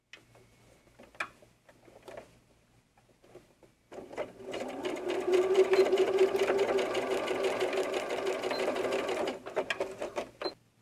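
A sewing machine runs a steady, fast stitching whir for several seconds while sewing the inside seam of doll diaper underwear fabric, preceded by a few light handling clicks and ending with the motor stopping; no talking.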